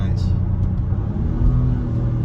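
A 2022 Acura MDX Type-S pulls hard under turbo boost, its engine a steady, loud low rumble that swells slightly as the SUV accelerates, heard from inside the cabin.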